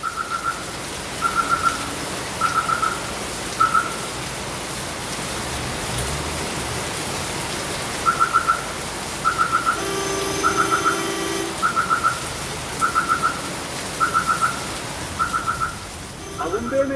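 Steady hissing rain falls in the Agumbe rainforest in Karnataka, India, while a bird repeats short chirping calls at regular intervals.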